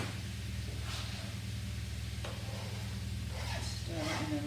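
Pork mince browning in a frying pan, giving a soft, steady sizzle with light stirring scrapes, faint and continuous at low level without talking over it.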